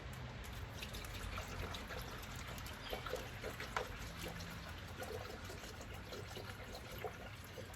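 Plain water trickles and pours steadily into the cooling system of a Ford 5.8L V8 during a coolant flush, a faint, continuous liquid stream with no voices.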